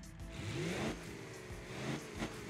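A simulated diesel engine with turbocharger and supercharger idles in the Automation game, giving a steady, even rumble with a low harmonic drone that holds throughout, with no voices over it.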